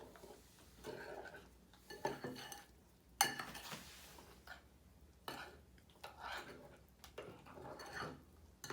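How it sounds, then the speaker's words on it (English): Crushed strawberries with sugar and pectin are stirred in a bowl, giving faint intermittent scraping and clinking of a utensil against the bowl in irregular bursts, with quiet room noise between strokes. "And then you're going to stir this mixture for 3 minutes."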